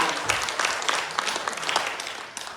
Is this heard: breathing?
no